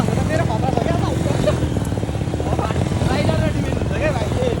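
A steady, near engine thrum comes from a Bullet motorcycle riding over a rough road, a rapid low pulse running the whole time beneath conversation between riders.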